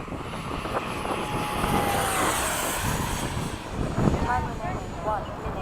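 An FMS 70mm F/A-18 model jet flies in formation, its electric ducted fan whining in a steady rushing roar that swells and fades as it passes, with people talking over it.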